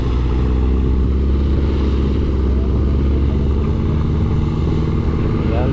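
A motorcycle engine runs loudly and close on a ride toward the Mount Apo lowlands, a steady low rumbling drone that holds throughout with no pauses.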